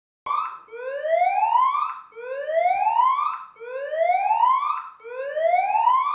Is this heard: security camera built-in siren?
yes